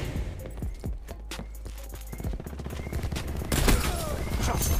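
Gunfire from an automated sentry turret in Call of Duty: Black Ops 4 crackles in a busy night firing-range match. Rapid bursts and scattered shots overlap with other combat noise, growing denser and louder toward the end.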